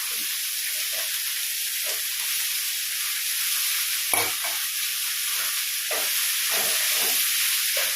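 Pieces of ash gourd fry in a hot pan, giving a continuous hiss and sizzle broken by frequent soft scrapes and clicks of stirring, with one sharper knock partway through.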